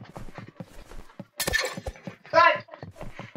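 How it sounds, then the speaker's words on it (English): Glass shatters twice in a Roblox Rivals match, a brief crash followed by a brighter tinkling burst, heard under constant rapid footsteps and players chatting. "Break the glass there."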